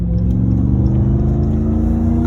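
A Ram TRX truck hauling 6,000 pounds accelerates on the road, its engine a steady, loud, close rumble with a rising drone and no voices over it.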